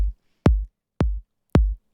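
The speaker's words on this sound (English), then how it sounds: "It's a nice, cool, toppy kick" A toppy kick drum sample played in Cakewalk by Bandlab, three loud punchy hits evenly spaced about half a second apart, each with a sharp clicky attack and a deep short boom, alone.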